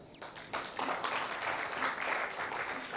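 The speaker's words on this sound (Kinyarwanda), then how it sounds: "niba bishoboka ndashaka kumva amashyi yabyo" Audience applause after a call for clapping during a staged heroism drama performance, a dense steady patter of many hands starting softly, swelling within half a second and holding evenly at moderate volume.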